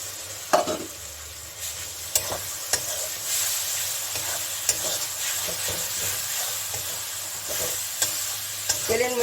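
Masala paste frying in hot oil while being stirred for an old-style potato chicken jhol, a continuous close sizzle punctuated by sharp scraping strokes of the spatula.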